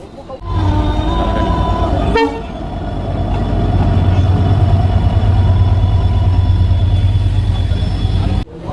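A local train sounds its horn as it pulls out of Nalhati Junction. Loud, close horn blasts come early, over a heavy, continuous low rumble of the moving train.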